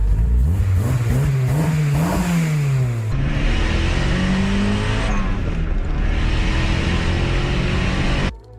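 A loud modified turbo Honda engine revs hard, climbing and dropping in pitch through several gear changes, roaring close and continuously before cutting off abruptly.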